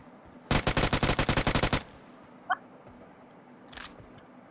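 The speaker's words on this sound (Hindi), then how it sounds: "स्कूल में फायरिंग हो रही है धड़ाधड़" Rapid automatic gunfire in BGMI: a loud burst of about a dozen evenly spaced shots, then a lone sharp crack and a shorter, fainter burst further off, with no one speaking.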